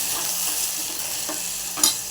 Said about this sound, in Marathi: त्यात आता तांदूळ टाकूया